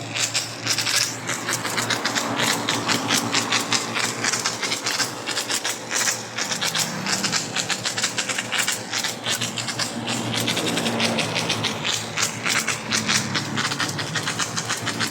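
A fully automatic 3-in-1 coin-operated carwash vending machine runs its one-minute cycle, a steady loud mechanical whir with a dense spray hiss and rapid rattling clicks throughout, no talk over it.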